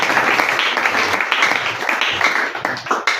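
A congregation applauding during a Sunday church service, sustained dense clapping from many hands that holds steady throughout, loud and close, with some voices mixed in.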